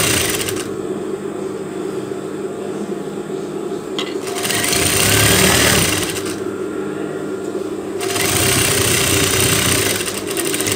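A sewing machine stitching a bolero seam runs loud and close in steady bursts, its motor hum and rapid needle clatter rising and easing across the stretch with no talking.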